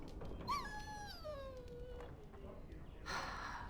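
A dog in the fantasy role-playing video game Dragon Age: Origins gives a long, drawn-out whine that slides downward in pitch, followed by a short breathy sound and a louder noisy burst near the end.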